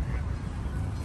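Ducks raised free-range in Vietnam call out in a brief, dense burst of honking quacks, loud and close, over a rough noisy background.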